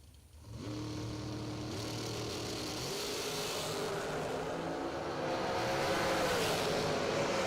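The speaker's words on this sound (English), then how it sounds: "Shorty Dragster versus Shorty Dragster." Shorty Dragster race cars at a drag race fire off the line with a loud, sustained engine roar that builds and climbs in pitch over several seconds, heard alone without talk.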